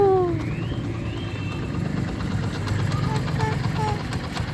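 A motorcycle engine idles near a high school ground, a low steady rumble with a faint knocking pulse, under a child's and adults' voices talking close by.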